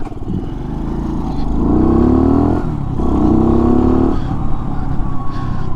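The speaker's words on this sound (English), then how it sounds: "stock exhaust, I don't think it sounds too bad" A 2015 Skyteam Skymax 125 monkey bike on its stock exhaust is ridden hard and close, its small single-cylinder engine revving up twice in rising pulls with a dip between, then settling back down.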